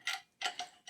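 An Allen bolt being threaded by hand into the crank of a steel Ciöcc bicycle with Campagnolo parts, heard as four crisp metallic clicks in an uneven rhythm, close and quiet, with no talk.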